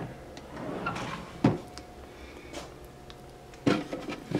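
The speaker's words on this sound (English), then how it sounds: "I have in the front here, I have drawers for supplies." Supply drawers in an antique dealer's work and storage space slide and bump shut, with two distinct knocks about two seconds apart amid quiet room noise and light handling sounds.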